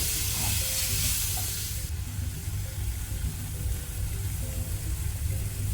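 A large tomato frying in a hot pan for Bengali potato and clam dry, a loud continuous sizzle that eases slightly after the first couple of seconds, with faint stirring clinks underneath.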